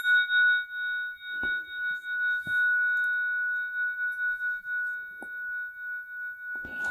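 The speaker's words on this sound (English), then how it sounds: "he makes these amazing instruments called trigons. These beautiful little bells," Little bronze bells called trigons ring with a single pure, sustained tone that hangs steadily throughout, while faint soft taps and knocks sound intermittently underneath.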